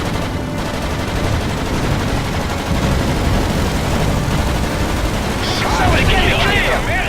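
Rapid aircraft machine-gun fire in the WWII flight game Blazing Angels, set over the Battle of Dunkirk: a dense, continuous rattle of bursts mixed with engine roar and explosions, loud throughout, with in-game voices talking over it.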